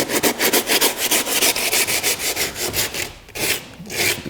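A damaged interior wooden window sill being sanded to rough up old paint, steady rhythmic back-and-forth scrubbing strokes close up and loud, about a dozen passes with a brief pause near the end.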